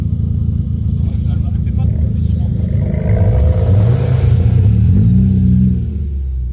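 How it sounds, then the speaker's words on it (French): A car engine idles with a deep rumble, then gets a quick blip of throttle that swells and drops back, close by, with people talking over it. "Tu peux mettre un coup de gaz pour lui?"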